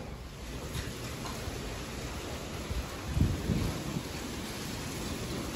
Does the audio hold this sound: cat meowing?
no